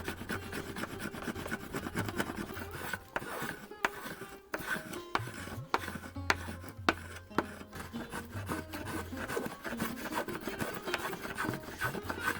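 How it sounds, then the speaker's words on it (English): A short two-handed wooden planer shaves a new wooden axe handle in repeated rasping strokes, steady and close, with brief pauses between passes. "the surface is turned with a short two-handed planer"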